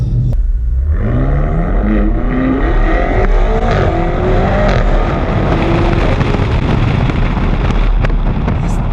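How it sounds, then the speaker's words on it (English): A BMW M5 Competition makes quick full-throttle passes, its engine note sweeping rapidly upward through gears into a loud, dense roar with sharp crackles, close and sustained throughout without talk. "So let's show you a couple of quick passes in this car."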